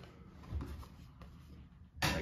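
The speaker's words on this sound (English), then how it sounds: "And then I go over that with acrylic paint," A brush lays acrylic paint over a pencil drawing on paper in an artist's studio, with soft, close scrubbing strokes rising and falling in short bursts and a louder swipe near the end.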